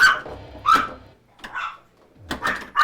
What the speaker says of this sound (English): Do you guys want to hear Slurpee barking?